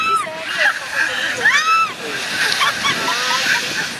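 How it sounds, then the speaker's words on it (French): Ocean water splashes and sloshes loudly as waves crash on swimmers in Brazil, while excited voices shout and squeal over the churning surf. "je me suis pris 2 vagues d'affilée"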